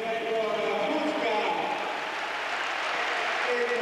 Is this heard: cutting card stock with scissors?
no